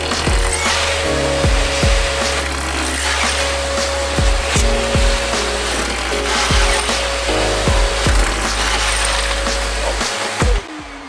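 A power drill with an 8 mm bit boring holes into a living-room wall for wall plugs while a vacuum is held nearby, a loud, steady whine running for about ten seconds, broken by several sharp knocks and clatters.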